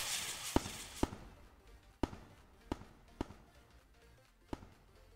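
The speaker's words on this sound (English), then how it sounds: "And that is how you make a firework in Roblox Studio." Fireworks in the Roblox video game launch and burst as a series of about seven sharp, separated pops over a hissy background, with no talking.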